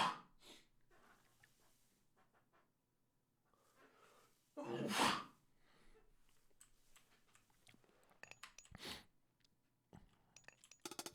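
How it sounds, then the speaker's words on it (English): A single sharp sneeze bursts out midway through a quiet stretch of Age of Mythology match commentary, surrounded by faint breaths, sniffs and scattered clicks. "I'm about to sneeze."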